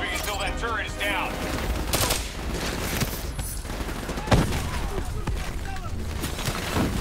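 Turret gunfire in Call of Duty: Black Ops 3 sounds as sustained bursts of rapid automatic shots, with a heavier blast midway and voices talking underneath throughout.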